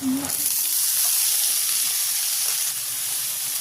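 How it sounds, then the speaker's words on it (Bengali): Chopped beans, carrot and potato go into a pan of frying onions, and a loud, continuous sizzle and hiss follows, close by, with light stirring underneath. "এবার এর মধ্যে দিয়ে দিচ্ছি কেটে রাখা বিনস, গাজর আর আলু।"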